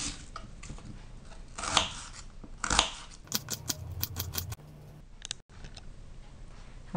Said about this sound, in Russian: Луковицу нарезаем мелкими кубиками.